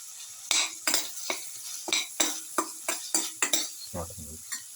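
A utensil clinks and scrapes in a rhythmic series of about a dozen sharp strokes while turmeric powder and salt are stirred into a potato, tomato and rice casserole, with faint sizzling underneath.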